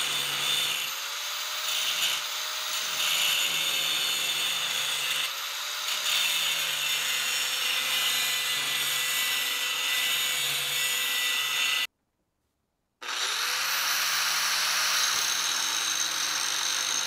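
Cutoff wheel grinding through a steel driveshaft tube for a Ford F100 shortbed conversion, a steady high-pitched whine with a faint rising motor tone, running continuously, cutting out briefly near the end, then resuming.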